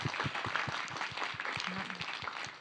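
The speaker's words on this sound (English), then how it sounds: "I think you guys deserve a round of applause." Audience gives a round of applause for speech contest participants, steady scattered clapping from a modest crowd, fairly faint and distant.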